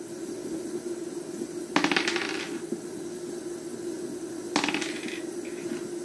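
Dice clatter onto a hard surface twice, each roll a short bright rattle over a steady background hum, spaced a few seconds apart.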